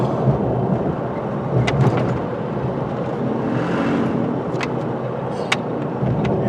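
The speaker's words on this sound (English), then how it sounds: "Heavy traffic." Heavy highway traffic heard as a continuous, loud broadband roar of many vehicles, steady throughout, with a few brief sharper passing sounds cutting through.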